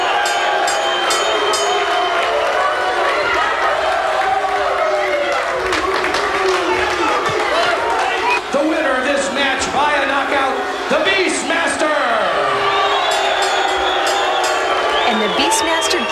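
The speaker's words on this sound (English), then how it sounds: "The crowd not happy with the wild woman. They lead the jeers while she asks for cheers." Crowd at a women's boxing event booing and jeering with scattered cheers and whoops, a loud continuous roar with an announcer talking over it.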